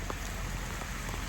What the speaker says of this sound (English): got a lot of rain coming down right now.